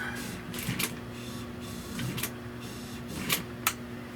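A sewing machine stitches upholstery for the rear arm rest of a 1966 Buick Wildcat GS, giving quiet bursts of mechanical whirring and ticking over a faint hum, close but soft.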